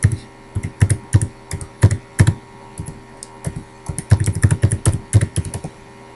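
Login name and password being typed on a computer keyboard: irregular bursts of crisp key clicks, close and fairly loud, with brief pauses between runs of keystrokes and no talking.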